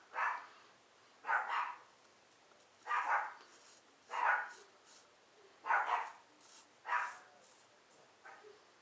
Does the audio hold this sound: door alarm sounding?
no